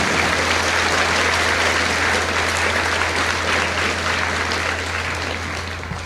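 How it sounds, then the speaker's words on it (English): Audience at a high school Veterans Day remembrance ceremony applauding, a dense, steady wash of clapping lasting several seconds at moderate level, with a low constant hum underneath. "Now for a round of applause."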